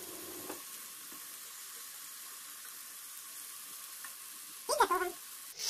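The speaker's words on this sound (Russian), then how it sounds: "Обжариваю в небольшом количестве растительного масла с двух сторон." Zucchini slices frying in a small amount of vegetable oil, a steady even sizzle throughout with a brief louder clatter of handling near the end.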